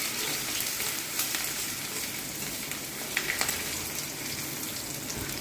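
Ginger frying in a pan while being stirred, a steady close sizzle with faint scraping and occasional small crackles and pops running throughout; no voices.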